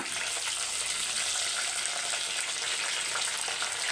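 Fenugreek seeds, green chillies and curry leaves fry in hot oil with a steady, dense, close-up sizzle that holds evenly throughout, with no talking.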